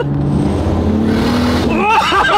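A Toyota Supra engine revs at half throttle, loud and close. The roar climbs, falls back, then sweeps up again in pitch near the end.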